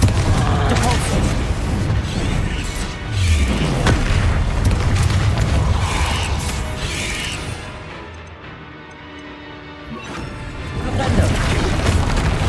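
Repeated blasting-spell explosions from Confringo casts in the Hogwarts Legacy video game, dense booming bursts and crashing debris layered over a continuous loud roar of combat effects and music, with short lulls between blasts.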